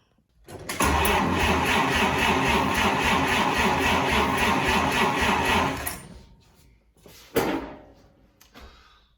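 A freshly rebuilt flathead engine with a 6-volt system cranks steadily and loudly for about five seconds, its starter chugging in a fast even rhythm, then stops, followed by a single short clunk.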